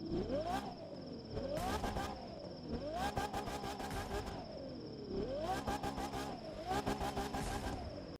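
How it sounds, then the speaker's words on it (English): Tempesta sports car engine in The Crew 2 racing game, revving up and down repeatedly in rising and falling sweeps with sharp gear-change pops, steady and close. "let's take a listen to that engine"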